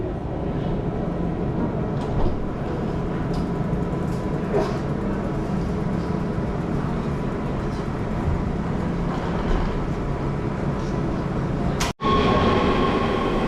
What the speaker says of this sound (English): our train just arrived